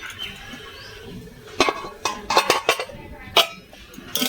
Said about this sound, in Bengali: এবার আমি ঢাকনাটা খুলে দেখবো আলুটা সিদ্ধ হয়েছে কি।